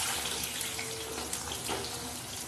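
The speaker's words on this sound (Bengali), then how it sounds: "আলুগুলোতে জল আছে, ওই জন্য ছিটে আসছে।" Wet cut potatoes go into hot oil with whole cumin and spatter steadily in a dense, close hiss, with no talking.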